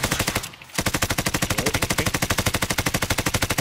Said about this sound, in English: I was just shooting him